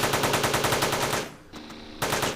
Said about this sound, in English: And they're using assault rifles too.